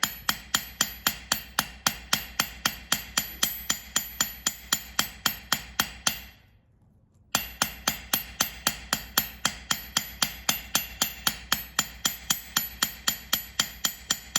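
A hammer strikes the ends of sterling silver chain links again and again to work-harden the metal. The sharp, ringing blows fall in a fast, steady rhythm and stop for a brief pause halfway before resuming at the same pace.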